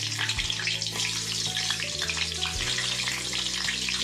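Fish fries in hot oil in a home kitchen, a constant bubbling sizzle at moderate volume over a low steady hum, with no voices.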